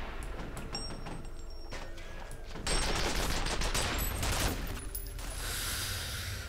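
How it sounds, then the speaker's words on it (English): Sustained turret machine-gun fire in F.E.A.R., a steady rattling stream of shots heard at moderate distance that swells louder midway and keeps going without pause. "Still shooting. It's just an angry turret."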